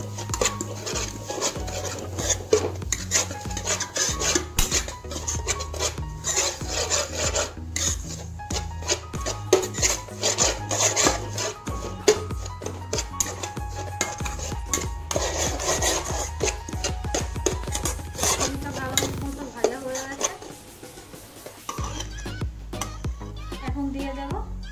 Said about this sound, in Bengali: সুজিটাকে ভালো করে ভেজে নেব।